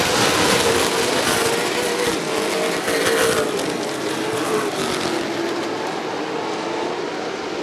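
Late model stock cars racing in a 40-lap feature at Rockford Speedway, producing a loud, continuous pack roar of V8 engines with shifting pitch as cars circle, no voices.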